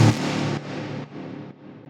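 A gritty, distorted drop hit from an electronic track, saturated with fast distortion and washed in vintage-style reverb, starting loud and then stepping down in a few abrupt decaying stages into a fading tail.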